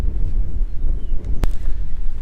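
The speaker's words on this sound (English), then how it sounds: "It's really windy today, much windier than what I really want" Low, rumbling wind buffeting the microphone throughout outdoors near beehives, steady and fairly loud, with a brief sharp click partway through.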